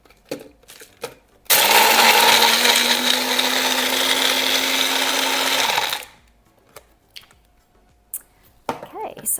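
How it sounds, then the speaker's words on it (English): An electric blender whirs loudly for about four seconds while mixing a French Blue cocktail, starting abruptly and winding down, with light kitchen clatter before and after. "let's blend this."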